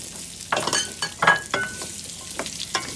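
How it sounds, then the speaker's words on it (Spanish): Onion and pork ribs sizzle as they brown in a pan, a steady frying hiss broken by several louder scraping stirs close by, with no voices. "Se le pone la cebolla para que se dore."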